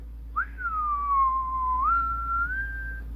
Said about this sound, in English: it's hard to get that whistle right onto that little dot right there